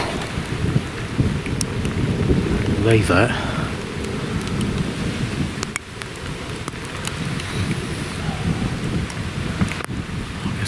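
Steady rain falls outdoors during a fox-shooting outing at night, a dense hiss under brief speech, with wind buffeting the microphone and low rumbling throughout.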